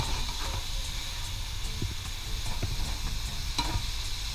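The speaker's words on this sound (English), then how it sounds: "I'm just browning this a little bit with my coconut Aminos." Cauliflower rice browning in a pan with coconut aminos, giving a steady soft sizzle and hiss with occasional light stirring scrapes, close and even throughout.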